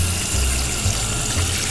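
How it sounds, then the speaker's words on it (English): Lukewarm tap water pours steadily into a sink while a raw Thanksgiving turkey is rinsed, a loud, even rushing stream close by with slight splashing changes and no talk. "All we're doing is rinsing the bird in every way possible."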